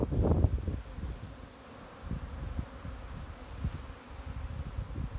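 A faint, steady buzzing hum of bees flying, with a louder burst at the start and gentle low rustling throughout.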